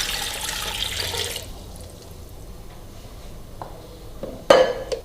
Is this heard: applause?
no